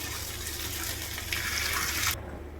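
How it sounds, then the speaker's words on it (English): Tap water running over freshly cooked, strained fettuccine in a kitchen sink, a close steady splashing gush that swells briefly before cutting off. "Wash these pasta under the tap water so that they do not stick to each other"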